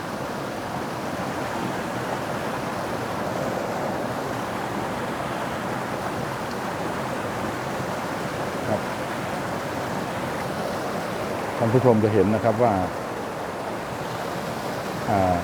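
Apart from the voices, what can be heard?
waterfall flowing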